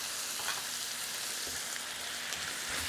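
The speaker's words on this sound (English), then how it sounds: "Just stir this together." Tater tot casserole ingredients, cream of mushroom soup and drained tomatoes with green chilies, stirred together in a bowl; a soft, continuous wet mixing sound, fairly quiet and steady, with no voices.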